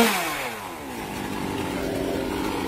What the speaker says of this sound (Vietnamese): cây dừa cao 14 mét được cưa rất là nhiều đoạn